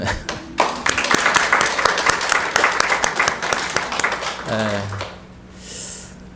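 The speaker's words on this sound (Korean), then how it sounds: "우리 박수로 한번 격려하죠" A church congregation claps in encouragement, a burst of crisp, close hand claps that thickens and then tapers off after about four seconds, followed by a short low rumble and quiet room tone.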